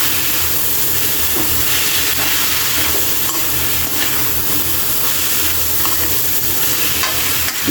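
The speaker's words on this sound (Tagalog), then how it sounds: "Gigisa lang din natin Kaylee para mas maganda yung chili, yung natin, bagoong magkulay brown ng konti" Chili and bagoong shrimp paste are sautéed in a pan with a steady, close hiss and sizzle and faint stirring scrapes, with no voices.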